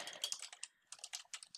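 Close, crisp keystrokes on a computer keyboard come in quick clusters with a brief pause in the middle, typed alone at a quiet level while writing R ggplot2 code.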